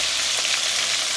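Fenugreek or five-spice seeds hitting hot oil for a Manipuri fish curry give a loud, close, continuous hissing sizzle, bright and steady through a brief moment with no voices.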